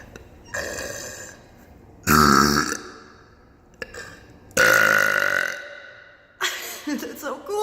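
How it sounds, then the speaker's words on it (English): Loud, resonant burps echo off the hard surfaces of a public bathroom, two long drawn-out belches separated by quieter stretches, with a softer rattling burp closing the sequence. "I'm gonna see, sorry, I pulled my pants up, how the burping acoustics sound here."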